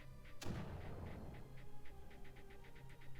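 A mortar firing in the video game Creeper World: one sharp, muffled thump near the start, then quieter rhythmic clicking and a low rumble underneath.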